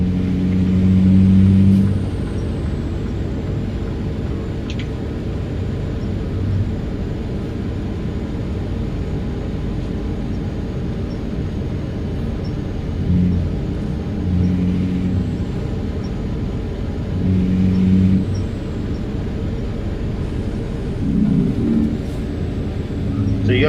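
A 1200HP outlaw truck accelerating, its engine a heavy, steady low drone from inside the cab with several louder surges, while someone talks over it.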